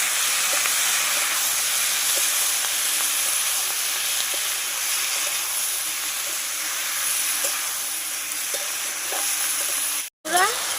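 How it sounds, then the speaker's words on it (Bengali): Ground spice paste for a katla fish curry fries in hot oil, a steady close sizzle and hiss with faint stirring scrapes, ending in a brief knock near the end. "বাটা মশলাটা দিয়ে দেবো দিয়ে ভালোভাবে কষিয়ে নেব"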